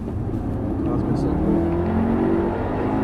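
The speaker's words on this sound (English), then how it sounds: "Hear that lovely little engine note." A race car engine drones steadily on track with a rising, revving note, heard from inside the car at close range and fairly loud throughout.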